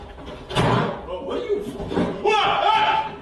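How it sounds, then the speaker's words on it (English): A door slams shut hard with a loud thud, followed by further bangs and knocks, while people's voices are heard around it. "The door beside Speed slammed shut with force"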